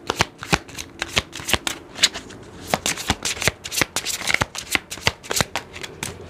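Soulmate oracle cards being shuffled by hand, a rapid run of crisp papery riffles and slaps in an uneven rhythm, close and clear with no talking.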